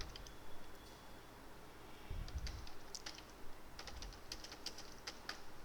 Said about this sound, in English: suppose I am typing some content over here